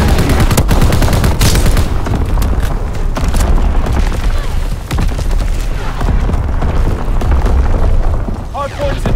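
Heavy gunfire and artillery from Call of Duty: WWII on the Flak Tower map, dense and loud with constant rattling shots and booming blasts, game voice callouts mixed in.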